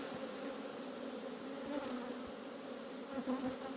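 Honeybees hum in a steady low drone inside an opened hive during a nuc and split inspection, soft and continuous, with the buzz swelling briefly near the end.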